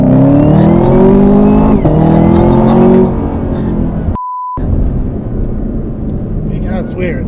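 A 2019 Chevrolet Camaro ZL1's supercharged engine accelerates hard with a loud rising whine and revs climbing through gear changes, then settles into a steadier drone after a short beep, with voices over it.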